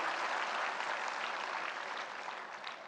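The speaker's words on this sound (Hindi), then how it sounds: "एक बार जोरदार तालियां फूड प्रोसेसिंग के क्षेत्र में सभी स्टेक होल्डर्स के लिए।" A large audience at the World Food India 2025 inauguration in Bharat Mandapam claps loudly, a dense, steady wash of applause that fades slightly toward the end.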